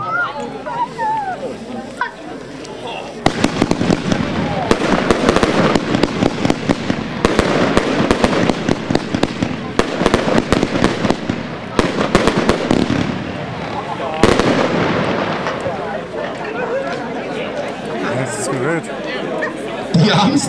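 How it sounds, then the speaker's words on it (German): An Amsterdam fan cake by GAU fires a rapid, sustained barrage of crackling shots for roughly eleven seconds, loud and close, then a further burst; people chatter faintly in the background. "jetzt haben wir den ersten Fächercake von GAU"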